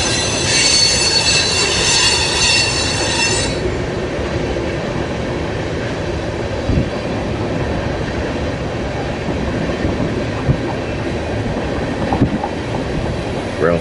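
A freight train rolls past a crossing in Ashland, Nebraska, a loud continuous rumble of wheels on rails with a high squeal early on, then steady clatter and occasional clanks.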